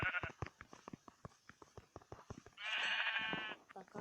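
Minecraft PE sheep give a loud, near, wavering bleat after a run of rapid, evenly spaced footsteps or block-breaking taps in the video game.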